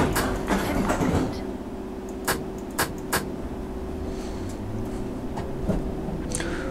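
A Circle Line train in the game London Underground Simulator rumbles along steadily with a constant motor hum and a few sharp rail clacks, heard close, with some speech over it.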